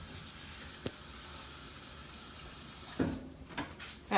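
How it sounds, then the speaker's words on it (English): Water pours steadily into a pan holding torn pieces of food in a kitchen, a continuous hissing stream that stops after about three seconds, followed by a few soft clatters. "And add some water."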